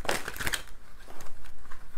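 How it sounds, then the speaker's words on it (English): Tarot cards being shuffled by hand, a dense burst of crisp riffling and flicking in the first half, then softer, quieter card rustles and taps. "I'm going to cut and shuffle the tarot deck three times"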